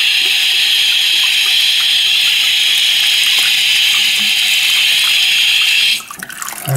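Water runs from a sink faucet in a steady, loud rushing stream close to the microphone, then cuts off abruptly near the end, leaving only a few faint drips and sputters.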